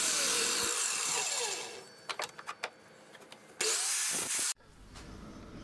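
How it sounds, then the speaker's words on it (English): A chop saw cuts wooden strips for a gypsy caravan wall: a loud whirring bite through the wood, then several short sharp cutting and rubbing noises, and a final brief burst before it stops abruptly. "I'm using my chop saw"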